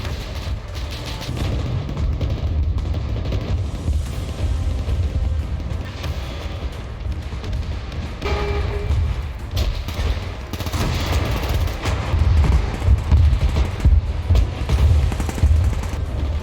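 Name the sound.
gunfire and artillery sound effects of a WWII tank battle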